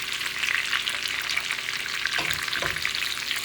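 Chicken pieces fry and brown in olive oil in a pan, giving a steady close bright sizzle with a couple of brief stirring knocks and no talking.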